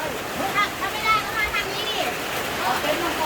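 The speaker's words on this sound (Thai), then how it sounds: "คืนนี้ก็ ฝนตกนะครับที่นี่นะ" Rain falls through a stormy night at a campsite, a steady broadband hiss of drops and splashes running throughout, with bird-like chirps or whistles faintly mixed in.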